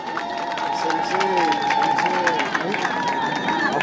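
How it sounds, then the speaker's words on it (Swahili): Crowd applause at an outdoor Mashujaa Day celebration in Isiolo, scattered clapping and cheering from a gathered audience mixed with steady chatter and a voice over a public address system. "Makofi."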